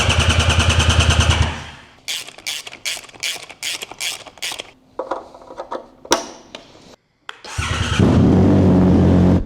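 A rebuilt Triumph Super Naked motorcycle engine cranks and sputters in a series of rapid, loud bursts, falls quiet briefly, then catches and settles into a steady, loud running idle.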